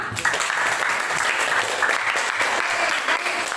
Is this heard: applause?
yes